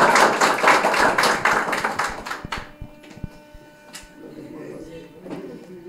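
Audience applause at the opening of a Partido Revolucionario Dominicano political office in Constanza, a dense burst of clapping for about two seconds that thins into scattered claps and fades out.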